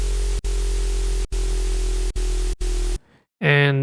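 A loud, gritty distorted synth bass made in Serum 2 drones, broken by a few short gaps, then stops and a brief voice is heard.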